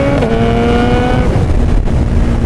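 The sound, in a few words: Suzuki Hayabusa motorcycle engine revving with throttle twist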